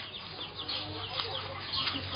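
Chickens and chicks clucking on a small farm, soft scattered clucks and peeps at a moderate distance, faint and close together over a quiet background.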